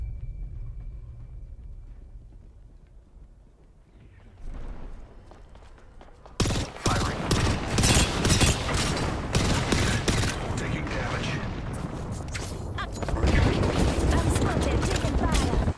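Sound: gunfire in the video game Apex Legends

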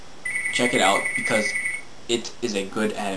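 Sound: phone ringing

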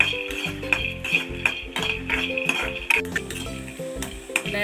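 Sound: peanuts dry-roasting in a kadai without oil

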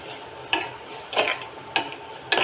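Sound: stirring ivy gourd stir-fry with turmeric powder

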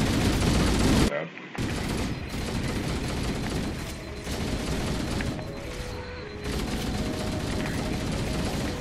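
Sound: gunfire in the Halo video game

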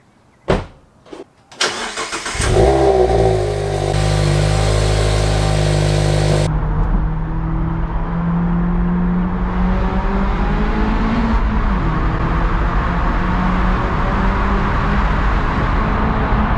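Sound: car engine cold start and revving

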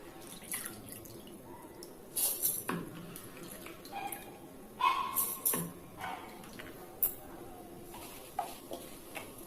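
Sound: washing soaked rice in water

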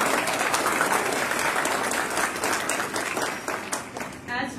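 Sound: audience applause for students at awards

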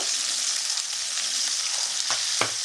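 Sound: potatoes and peas frying in a pan

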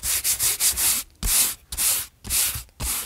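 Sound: rubbing dried paint nibs off a painting

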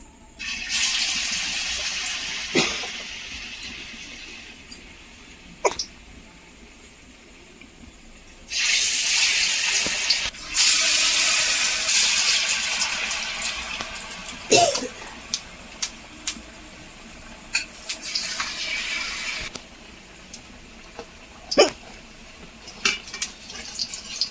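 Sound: potato and glue snack dropped into hot oil to fry

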